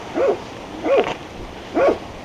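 A Pyrenean mountain dog (patou) in the Pyrenees mountains gives three separate barks, evenly spaced with pauses between them, close by and fairly loud over quiet surroundings.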